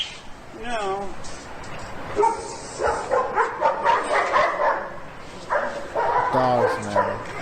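Dogs barking and yipping in short bursts at the start and again near the end, with someone talking in between and over them.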